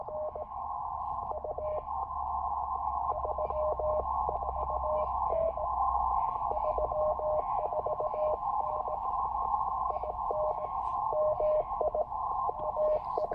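Morse code sidetone keyed on an Elecraft K2 with N0SA SP4 precision paddles, a steady pure tone broken into quick rhythmic dots and dashes that runs nonstop, loud and close, with no voices.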